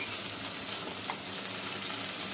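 Ground paste sautéing in a pan for Karaikudi-style onion kosumalli, giving a steady, even frying hiss with soft stirring noise throughout, close and moderately quiet, with no talking.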